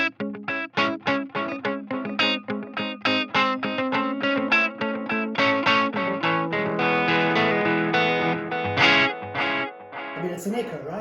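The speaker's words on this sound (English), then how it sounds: "while we're pushing pedals, let's add a little bit of delay and reverb" Electric guitar played through fuzz, delay and reverb pedals, a run of plucked notes with echoing repeats that smear into a sustained, effected wash, loud and up close with no talking.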